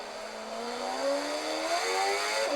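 A race car engine in a racing video game revs steadily upward during a lap, a smooth, continuous rising whine that climbs in pitch throughout with no voices.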